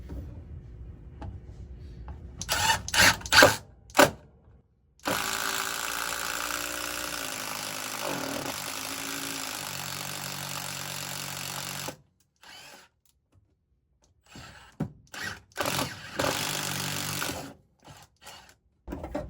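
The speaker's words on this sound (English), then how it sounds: "we'll have to drill through this stud" A power drill with a long extension bit bores through a wooden wall stud during a fire alarm install, whining loudly for about seven seconds, followed by shorter bursts and pauses.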